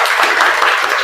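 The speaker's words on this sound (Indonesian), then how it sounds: "Tepuk tangan untuk kelompok 4." A classroom group claps for group 4 during a school lesson, a brief, steady burst of many hands applauding at an even level throughout.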